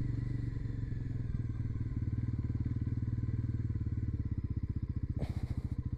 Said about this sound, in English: The first service of this bike is done, so I can pull out a bit on this.